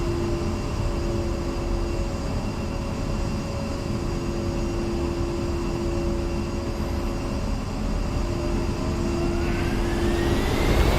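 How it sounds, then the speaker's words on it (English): An F-16 jet engine at takeoff power in DCS World, a loud continuous roar with a steady high whine that starts to rise near the end, with no voices. "Takeoff power set."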